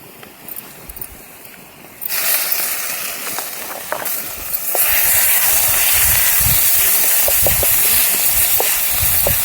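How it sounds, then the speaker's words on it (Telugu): Ginger garlic paste fries in hot oil with onions and turmeric for a mutton fat curry cooked outdoors in a farm field. A loud, steady sizzle jumps up as the paste hits the pan, with occasional stirring clinks. "అల్లం పచ్చివాసన పోయిందాక మంచి ఫ్రై చేసుకుందాం"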